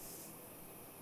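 Spray paint hissing steadily onto a car behind its Oregon license plate during a repair in the Car Dealer Simulator video game, a continuous airy spray lasting about a second with no talk.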